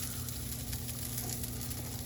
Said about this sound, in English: Starting to see some sizzle on there.